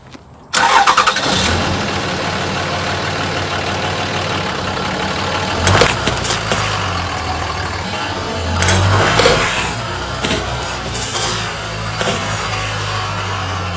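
Cummins diesel truck engine rumbling steadily close by as it rolls over and crushes Mountain Dew cans, with a few sharper bursts and crunching surges along the way and no talking.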